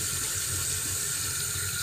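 Tap water runs steadily at a sink during a BMW headlight restoration job, a continuous close hiss and splash with no voices over it.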